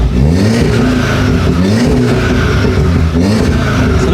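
Modified VW Golf 7R with an induction kit and downpipe, revved repeatedly while parked, several loud close exhaust rises and drops in quick succession.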